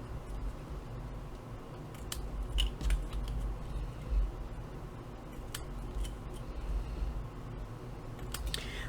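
Quiet scissors snipping paper while making a traveler's notebook insert: a few short, sharp cuts spaced apart over a soft, steady room hum, with no talking.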